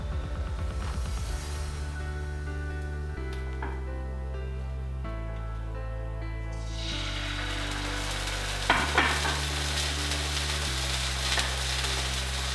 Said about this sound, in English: Our skillet is ready now, you can hear it.